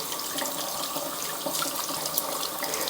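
Water runs steadily from a tap while makeup brushes are rinsed and gently squeezed under it, a continuous close splashing hiss with no voices.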